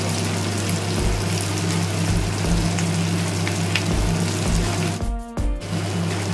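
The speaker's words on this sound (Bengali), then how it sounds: "লাল লাল করে আমি পনিরটা এইভাবে একটু ভেজে নিচ্ছি" Cubes of paneer shallow-frying in hot oil until reddish and crisp, a steady close sizzle throughout with a constant low hum underneath and a brief break just past the five-second mark.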